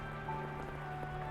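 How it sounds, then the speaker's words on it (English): Rain falls steadily in the visual novel game The House in Fata Morgana, a soft even patter on a surface under a low sustained musical drone, with no voices. "There's no end to this rain, is there?"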